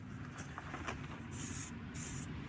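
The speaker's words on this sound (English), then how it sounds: "You're just going to spray it at the tire about a foot away." Turtle Wax Wet'n Black aerosol tire shine sprays onto a tire from about a foot away in two short, close hissing bursts of under a second each, with quiet background hum between them.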